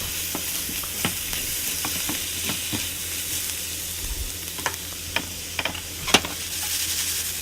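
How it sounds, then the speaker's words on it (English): A spoon stirs cracked pepper through braised pork chops and vegetables in a sizzling pan on low heat, giving a steady close hiss broken by light scraping knocks and taps. "And then give it a little stir."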